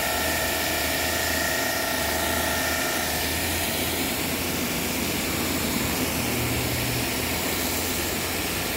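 A Kranzle pressure washer runs with a turbo nozzle at about 1,000 PSI, its motor producing a steady, even, broadband rushing hum throughout.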